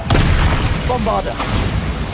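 A Bombarda blasting spell explodes in Hogwarts Legacy, a loud booming blast filling the short moment, with a voice briefly calling out over the rumble.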